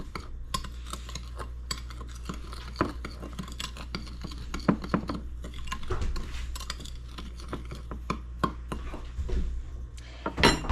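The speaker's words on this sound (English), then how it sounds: "I'm going to stir up my cinnamon and sugar" Cinnamon and sugar stirred in a bowl for coating air-fryer donuts, a run of close, light clinking and scraping taps of utensil against the bowl, uneven in rhythm and steady throughout.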